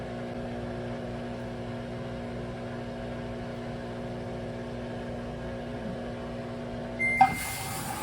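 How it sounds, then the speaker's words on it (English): A Samsung front-load washer, model WW22K6800AW/A2, running its drain pump: a steady low hum with tonal whine, fairly quiet and constant, ending in a brief clunk and bump near the close. "That's the drain pump operation."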